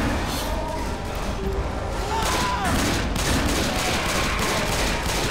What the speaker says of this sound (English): Should be putting fire on him right now. Everybody should be shooting him.